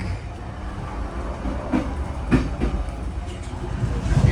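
Steady rumble and rattle from inside a moving passenger train in Vietnam, with a few louder clunks and knocks over the continuous noise and no talking.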